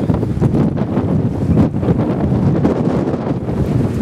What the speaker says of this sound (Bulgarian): То винаги има вятър тук.